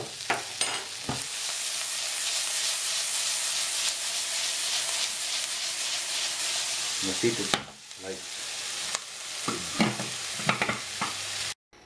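Steady sizzling and frying hiss from a hot pan of onions caramelizing with sugar, with stirring scrapes, continuing for several seconds before brief quieter gaps and a few short spoken words.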